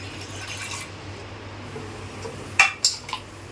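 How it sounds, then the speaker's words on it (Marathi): Potatoes go into a metal pressure cooker. After a quiet stretch come a few short clanks and knocks close by, with no voices. "आता ही बटाटी कुकरला लावून घेते"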